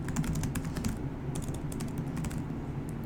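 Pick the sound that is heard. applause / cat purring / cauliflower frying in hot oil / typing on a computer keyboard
typing on a computer keyboard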